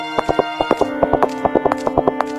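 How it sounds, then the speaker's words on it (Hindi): Rapid, even clip-clop hoofbeats of a horse running toward a forest sound loud and close, over a steady tonal background hum. "घोड़ा जंगल की ओर दौड़ पड़ा।"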